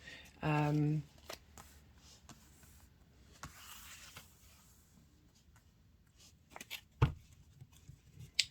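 Tarot cards get a quick riffle shuffle, a brief close burst of flapping, followed by softer handling and a single tap against a table.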